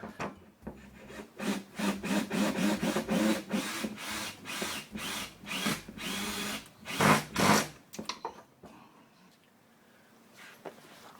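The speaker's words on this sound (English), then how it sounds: "So I'll get the electric drill and just run that in a bit." A power drill drives in a bolt while fitting a rear differential mount on a Mercedes, whirring in short, rapid bursts, close and loud, then stops, leaving quiet with faint handling noises.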